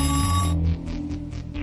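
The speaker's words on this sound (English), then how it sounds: "It's ringing." A telephone rings with a steady electronic tone that cuts off after half a second, followed by a few short, softer bursts.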